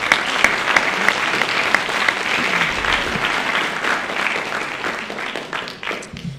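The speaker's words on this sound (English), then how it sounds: "So I'd like to give them a round of applause and thank them for all that they do." A school winter band concert audience applauds the school board and administration, with dense, sustained clapping from a large crowd that fades slightly toward the end.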